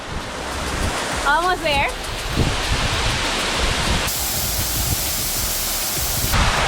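Waterfall pouring over rocks, a loud, constant broadband roar that fills the whole scene, with a brief spoken phrase and some wind buffeting near the microphone.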